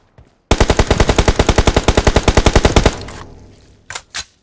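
Automatic gunfire in PUBG Mobile, a loud, close burst of about thirty rapid evenly spaced shots lasting over two seconds, then a fading tail and two short sharp reports.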